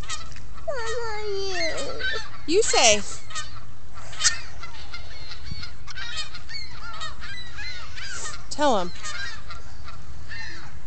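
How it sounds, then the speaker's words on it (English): Seagulls near the shore give loud, wailing, sweeping calls in scattered bursts, several overlapping near the start and another call cluster later, while a child and an adult talk briefly between them. "tell those seagulls to stop"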